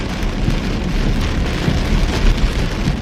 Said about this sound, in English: Don't you love the sound of the rain?